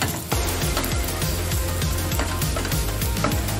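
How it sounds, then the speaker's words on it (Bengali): Sliced onions frying with a pinch of salt in a pan for a pointed gourd and poppy seed dish, a loud close sizzle with rhythmic scraping strokes of a spatula stirring, and no talking. "দিচ্ছি সামান্য নুন, পেঁয়াজটা তাড়াতাড়ি ভাজা হওয়ার জন্য।"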